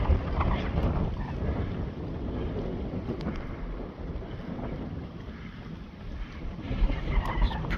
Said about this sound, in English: We got 35-kilometer winds, gusting up to 46 kilometers an hour.